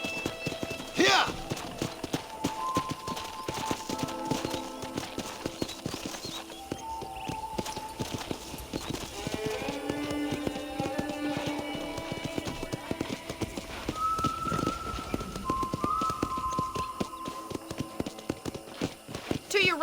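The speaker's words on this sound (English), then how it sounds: "let's see if you can still ride a horse." Horse hooves clip-clopping at a steady ride in the Red Dead Redemption video game, a continuous rhythmic patter under music and intermittent talking voices.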